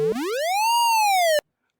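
A procedural game tone from Labchirp mixing square and sine waveforms rises in pitch, levels off and dips slightly over about 1.4 seconds, steady and bright, then stops abruptly.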